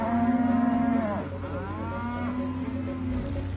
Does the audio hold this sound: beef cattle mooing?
yes